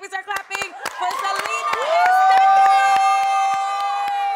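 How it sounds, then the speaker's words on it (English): An audience welcomes drag performer Salina with a scatter of close handclaps that gives way to a loud, sustained cheering shout, with excited voices around it. "I need you to give a warm welcome, start clapping for Salina"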